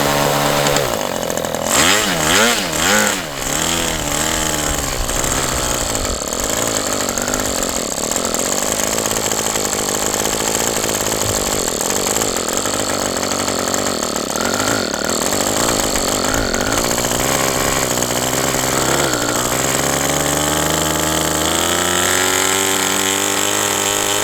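A Magnum 65 GPSE glow model engine spinning a 3-blade prop with a troublesome carburetor, roaring loud and raspy like a chainsaw, its pitch wavering and surging throughout, no talking.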